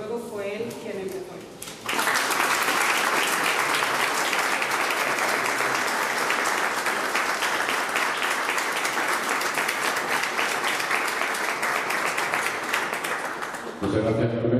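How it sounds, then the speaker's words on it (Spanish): A loud, sustained round of applause from the audience at a Spanish library exhibition opening with the town mayor present. It starts abruptly after brief speech and continues densely for about twelve seconds before cutting off. "un gran aplauso"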